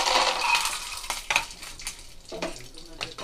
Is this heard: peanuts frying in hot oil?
yes